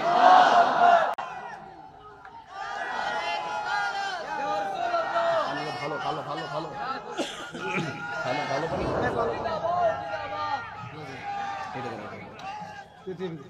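A large crowd at an outdoor Islamic waz gathering shouts rhythmic Takbir responses back to a preacher, loud massed voices rising in waves and filling the space, with the leader's amplified voice calling between them.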